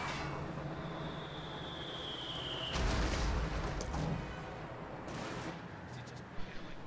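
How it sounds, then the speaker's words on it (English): Mortar bombardment and gunfire in a World War II strategy video game: a low rumble with heavy blasts near the middle, a few sharp later bursts, and a faint whine early on. "Mortar is bombarding the Tier 4 structure, and it's woefully undefended"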